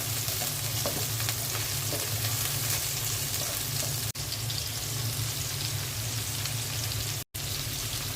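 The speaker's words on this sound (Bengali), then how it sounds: "পেঁয়াজের সাথে চিংড়ি মাছটা একটু ভেজে নেব।" Shrimp sizzle with onions in a pan, a constant close hiss of frying oil with faint crackles and two brief dropouts.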